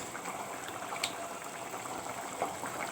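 Kerala vulli theeyal, a shallot curry thinned with a little water, simmers in a pan, giving a soft continuous bubbling hiss with scattered small pops, close and steady.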